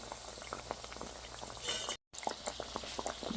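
Padma gaja sweets deep-frying in oil over low heat give a close, steady bubbling sizzle with small pops, briefly cut to silence midway before the frying resumes.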